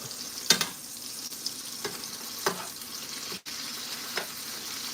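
Steak searing in a hot pan set on a hot oven, with a steady low sizzle throughout and a few sharper crackles and pops standing out above it, close and moderately quiet, no talking.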